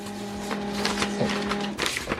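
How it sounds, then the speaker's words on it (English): An HP LaserJet M140WE printer copying a document, giving a steady mechanical hum with a sustained tone and repeated soft clicks and rustles of paper feeding, close and moderately loud. "So it will copy this document twice."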